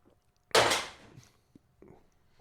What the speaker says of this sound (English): I gotta crack another beer.